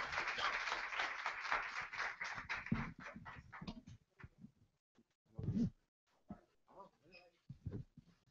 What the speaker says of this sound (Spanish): Muchas gracias y un aplauso para ellos